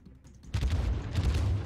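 Ship guns firing in World of Warships from a Baltimore-class cruiser, a sudden heavy booming salvo that rolls into a sustained deep rumble, loud and close, with no talking.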